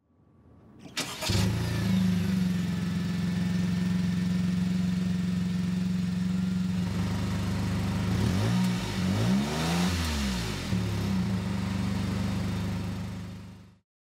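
A Honda N-VAN +Style Fun with a turbo engine starts up, then runs steadily with a loud, close engine drone that shifts as it revs and accelerates partway through, before cutting out at the end; nobody speaks.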